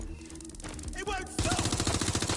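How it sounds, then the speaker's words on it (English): Gunfire erupts in a game scene: a few scattered shots give way to a loud, sustained burst of rapid automatic fire close by, with voices mixed in. "Shots fired!"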